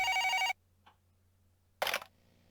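A telephone rings in the video game Twilight Syndrome, set in a mansion, with one loud electronic ring burst, a pause with a faint blip, then a second short ring, alone without talk.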